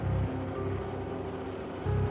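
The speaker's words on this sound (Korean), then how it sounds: "오리도 없는 빈 사육장 안 트랙터 소리만 요란합니다" A tractor works inside an empty duck-rearing shed on a Naju farm, its loud, steady engine drone filling the space with rhythmic low pulses and no voices.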